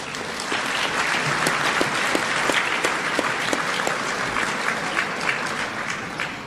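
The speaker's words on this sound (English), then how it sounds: "So please, give yourselves a round of applause." Audience applause fills a dinner hall at an annual policy-center dinner in Eastern Washington, a steady, dense clapping from many hands that holds evenly for several seconds with no voices over it.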